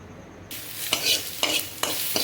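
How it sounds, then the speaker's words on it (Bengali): Onion frying with tomato in a pan: a steady broadband sizzle starts abruptly, with a few louder bursts where the mixture is stirred or shifted, close and alone with no voices. "পেঁয়াজটা ভাজছি টমেটো দিয়ে"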